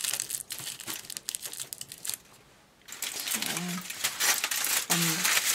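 Aluminium foil crinkles and rustles in close bursts while being layered onto a paper mache dress form. The crackling comes in uneven handfuls with a brief quiet gap midway, and faint speech is present.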